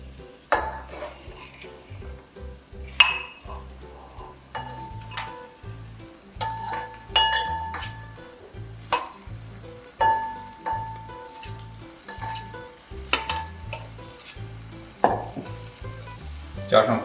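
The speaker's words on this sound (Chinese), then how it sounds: "把你刚才烧好的牛尾" Cooked oxtail tipped into a hot wok over onions sizzles steadily, punctuated by repeated sharp metallic clinks and scrapes of a utensil against the pan, with a soft rhythmic background underneath.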